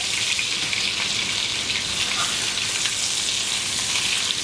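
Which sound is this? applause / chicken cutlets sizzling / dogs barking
chicken cutlets sizzling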